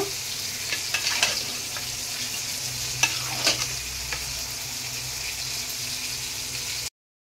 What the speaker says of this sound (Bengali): 5 কিলো মাটন আছে, এরপরে মশলার সঙ্গে খুব ভালো করে মিশিয়ে নেব